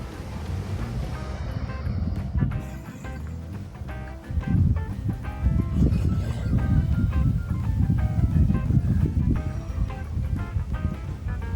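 Wind buffets the microphone in heavy, gusty rumbles that swell and fade on a motorcycle ride in Okinawa, Japan, loud and continuous with no voices.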